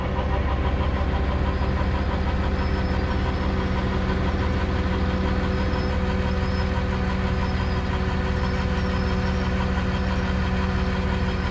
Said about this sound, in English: that's a heavy truck, 3500 engine. It's probably a diesel.